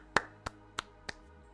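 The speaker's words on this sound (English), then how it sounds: "a bigger round of applause to Jasper for winning tonight" A few slow, sparse claps, four sharp isolated hits at a trivia night celebrating the winner, fairly close with no talk over them.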